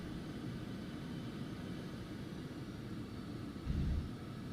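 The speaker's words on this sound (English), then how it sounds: "After takeoff I will lower a bit the volume of the airplane if it's too overpowering." Steady, loud roar of an Aerobask EMB-505 Phenom 300 business jet's engines in the X-Plane 11 flight simulator. The wash is continuous, with a brief low swell near the end and no voices.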